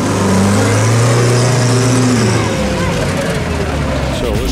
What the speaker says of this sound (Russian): Что-то мотор кажется... троит, короче, сейчас. Катушка, походу, перегревается и начинает троить.